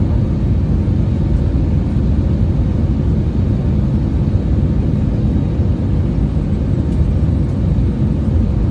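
Steady loud low rumble and whir inside a Cebu Pacific passenger airplane landing in Manila, Philippines, a continuous cabin engine drone throughout with no talk.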